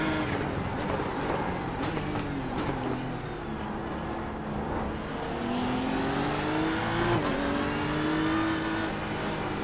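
A race car engine in iRacing at the Nürburgring, with a steady droning note rising and falling under throttle, swelling into a stronger rev near the end and running continuously at close range.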